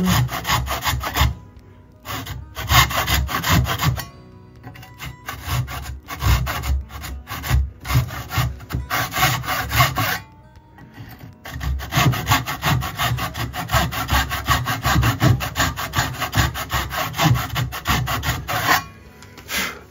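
Rhythmic strokes of a hand saw biting through solid oak for garage doors, steady back-and-forth rasping with two short pauses between bursts.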